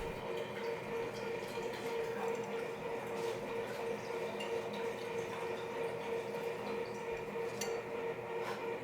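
Water poured into a Berkey water filter in a home kitchen, a continuous even rushing fill with a soft trickling wash, steady and moderately close throughout.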